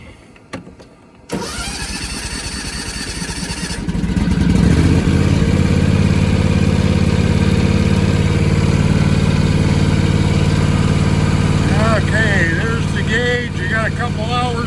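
A John Deere X350 riding lawn mower engine cranks briefly, catches and revs up loudly, then settles into a steady, close, rumbling idle for the rest of the time.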